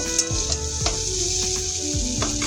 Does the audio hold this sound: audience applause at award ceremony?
no